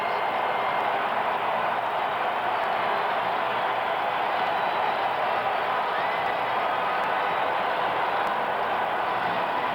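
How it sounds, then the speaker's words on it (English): A capacity crowd roars steadily under the dome at BC Place in Vancouver after the BC Lions clinch the 1985 CFL Western Final against Winnipeg, a dense continuous wall of cheering noise with no pauses. "A capacity crowd here under the dome at the stadium at BC Place, roaring its approval"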